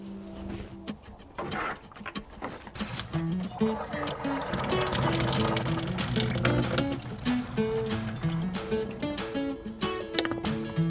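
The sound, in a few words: getting water from tap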